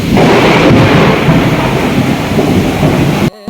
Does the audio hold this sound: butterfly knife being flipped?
no